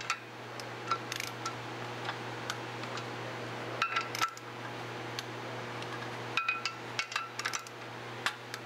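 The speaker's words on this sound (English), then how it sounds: "Now the KIA specification is 13 to 20 pound-feet. I've got the wrench set for 17." A torque wrench tightening clutch bolts on a 2003 Kia Rio, with faint scattered metallic clicks and ticks over a low steady hum, a few sharper clicks standing out in a quiet garage.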